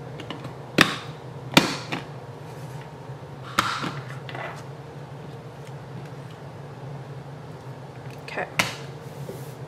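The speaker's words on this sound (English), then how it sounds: "here is the, what is this called, Scallop Sentiment by Fiskars, and I'm going to take this houndstooth pattern and punch that out" A Fiskars Scallop Sentiment punch cutting through patterned cardstock, a few sharp isolated clacks spaced seconds apart over faint background hum.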